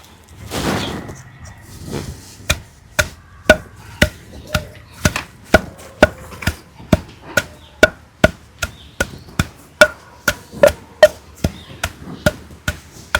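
Green chillies and salt are pounded for a gongura pod chutney, producing a long series of sharp, evenly spaced thuds, roughly two per second, loud and close against a quiet kitchen background.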